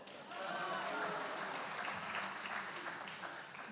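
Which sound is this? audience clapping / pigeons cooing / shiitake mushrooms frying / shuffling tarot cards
audience clapping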